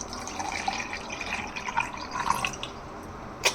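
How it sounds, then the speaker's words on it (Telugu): A glass of water poured into a container for a face pack, heard as a soft continuous trickle with light drips and a small clink near the end, close and moderately quiet. "ఒక గ్లాస్ వాటర్ వేసుకోవాలి."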